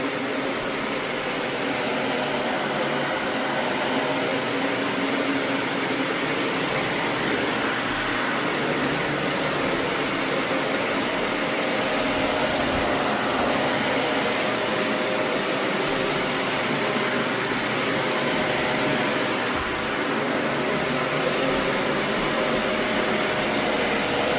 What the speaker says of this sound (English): I am also a fan of how quiet this Dyson is.